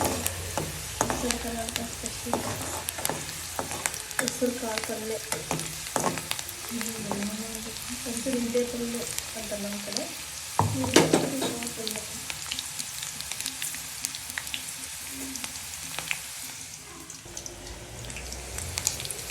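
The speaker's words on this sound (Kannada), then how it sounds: "ಆ್ಯಂಡ್ ಈರುಳ್ಳಿ ಆಯಿಲಲ್ಲಿ ಫ್ರೈ ಆಗ್ತಾಯಿದೆ" Onions fry in oil in a pan, a continuous close sizzle with frequent scraping stirs and clinks of a spatula over nearly twenty seconds.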